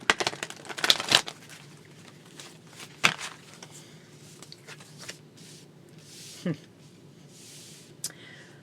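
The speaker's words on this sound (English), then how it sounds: "Pull a couple of cards." Tarot cards handled and pulled from a deck: a few sharp shuffling riffles and crisp flicks near the start, then softer sporadic slides and taps of card stock, close by, with a voice talking at times.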